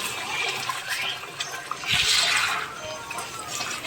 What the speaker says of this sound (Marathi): थोडं पाणी घातलं गरम.